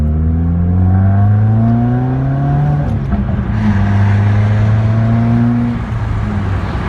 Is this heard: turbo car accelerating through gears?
yes